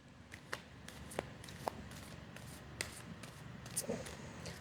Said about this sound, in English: let's just do one more shuffle